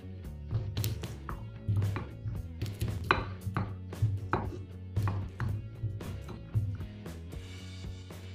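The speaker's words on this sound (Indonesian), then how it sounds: "Pertama-tama kita haluskan bawang putihnya." Steady rhythmic pounding of garlic in a mortar for an Indonesian tahu petis recipe, repeated thuds at a regular pace, close and fairly loud, no voices.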